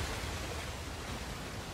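A waterfall in Uncharted: The Lost Legacy gives off a faint, steady broadband rush of falling water, even and unbroken, with no voices.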